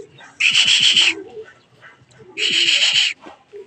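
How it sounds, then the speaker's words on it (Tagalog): Two loud, close bird calls, each a harsh trilling burst lasting under a second, separated by a short quiet pause with faint rustling. "ito yung ibon natin na pinakamabait sa atin"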